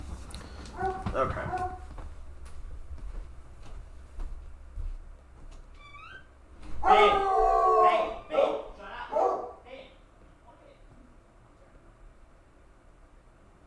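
A coonhound barks and howls loudly nearby in a run of drawn-out, wavering baying calls that pause and resume, with a person speaking briefly amid the noise.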